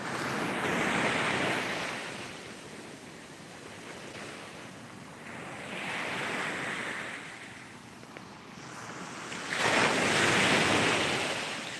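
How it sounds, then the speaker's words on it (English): Ocean surf on a beach in Ghana, waves breaking in slow recurring swells that rise and fall about every four seconds, steady and close with wind buffeting the microphone and no voices. "Let's go back to the waves."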